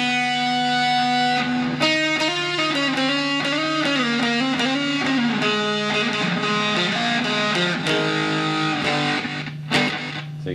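An electric guitar plays through a homemade fuzz pedal with a single-echo effect, producing sustained distorted notes with sliding, wavering pitches and repeats, loud and continuous throughout.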